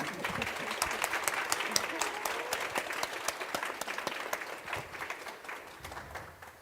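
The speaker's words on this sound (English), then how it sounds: "another round of applause, please" An audience at an evening storytelling event applauds for several seconds, a full and continuous patter of many hands with sharp individual claps standing out, easing off slightly toward the end as voices murmur.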